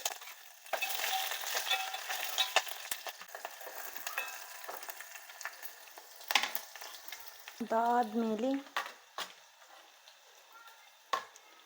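Green chillies, garlic and curry leaves sizzle and crackle in a hot pan with steady frying noise and occasional stirring clinks. A short stretch of voice rises over the sizzle partway through.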